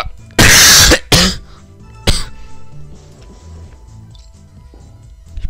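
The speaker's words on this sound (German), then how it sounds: "Oder warum huste ich denn?" A person who is sick coughs: a loud harsh burst, a shorter second cough, then a brief throat-clearing hack, followed by quiet breathing and faint low background sounds.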